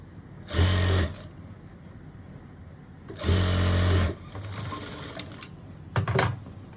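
A sewing machine stitches fabric for trousers or palazzo pants in two loud, close bursts of about half a second and a second, with quieter handling of the cloth and small clicks between and after.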